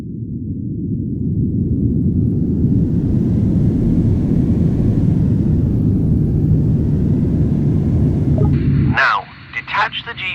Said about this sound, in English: Hop back in the tug and head over to the aircraft as indicated.